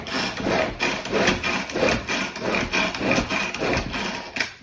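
A Tupperware pull-cord chopper being yanked repeatedly by hand, its cord whirring out in a quick series of about nine rhythmic rasping pulls, close and fairly loud, with no talk.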